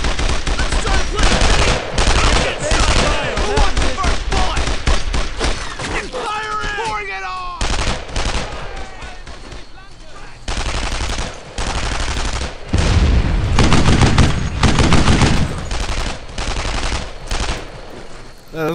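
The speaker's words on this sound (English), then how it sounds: "A lot of bullets are coming my way here." Dense machine gun fire from the WWII shooter Brothers in Arms: Earned in Blood, rapid loud bursts and scattered shots rolling almost nonstop, with brief shouted voices and battle noise mixed in.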